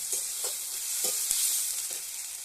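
Onions fry in a pan for a greens-and-chicken kosha, a soft continuous sizzle broken by several scraping strokes of a spatula.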